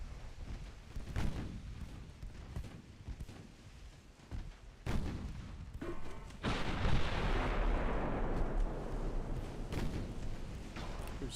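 Naval gun salvos in the naval combat game Ultimate Admiral Dreadnoughts, several booming shots and bursts in quick succession, followed by a heavy rumbling roar that lingers and fades.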